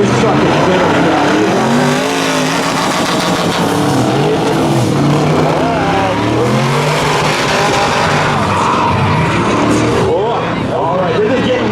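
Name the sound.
diesel truck revving at street drag race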